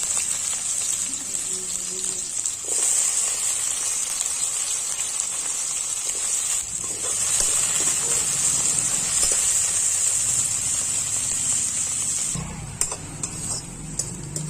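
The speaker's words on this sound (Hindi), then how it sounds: "आलू को पहले हम भून लेंगे अच्छे से" Potatoes fry with cumin in a pan for a Chhattisgarhi vegetable dish, a constant close rain-like sizzle that runs throughout, with a brief shift and a few scrapes near the end.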